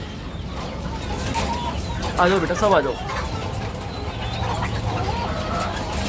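Golden Misri hens in cages cluck and squawk close by in a small home poultry farm, a burst of agitated calls in the middle over steady background noise, with someone speaking over them.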